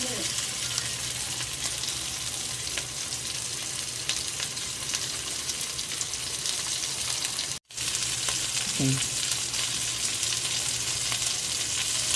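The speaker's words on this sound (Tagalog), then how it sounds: "So pili natin sa lagyan ng tubig mga lods." Chicken meat for native tinola sizzles loudly and steadily in a pan, with a brief cut in the sound partway through, followed by continued hissing and a faint splash as water is added.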